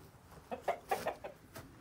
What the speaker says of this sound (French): le coq qui veut m'attaquer